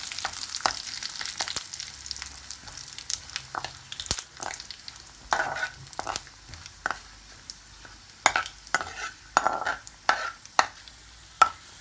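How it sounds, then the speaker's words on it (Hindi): Garlic, curry leaves, cumin and chilies frying in hot oil for kadhi tempering, a steady close sizzle broken by sharp crackles and pops, with no voices. "लहसुन देखिए हमारा लाल हो गया है और अब मैं इसमें कड़ी पत्ता और ज़ीरा मिर्चें शामिल कर दी हैं।"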